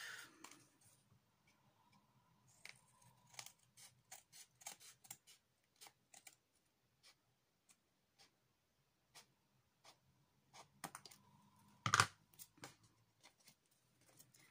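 Scissors cutting through paper card while a Halloween shaker card is made: quiet, close, scattered snips and clicks spaced irregularly, with one sharper cut standing out near the end.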